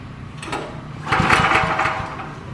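A small engine is cranked after a choke adjustment. A couple of pulls give a brief rattling churn that sputters without catching, fairly close and loud, with no speech.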